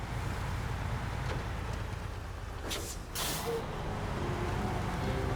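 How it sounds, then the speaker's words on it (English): Rain falls in the SnowRunner game set in Wisconsin, a steady broadband hiss over the low hum of a Mercedes-Benz Actros logging truck engine, with a brief louder gust of noise midway. "to hear the rain on the background. Nice with an engine hum."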